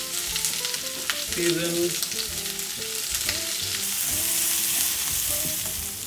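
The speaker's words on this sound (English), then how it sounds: "we're going to caramelize these onions" Onions caramelizing for Parsi dhansak, frying and sizzling steadily in a pan with occasional stirring scrapes, close and continuous; a voice speaks a single brief word.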